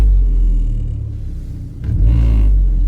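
An Audi B6 A4 with a 1.8T engine and aftermarket engine mounts revs from idle, a deep close rumble dipping then swelling again as the car vibrates.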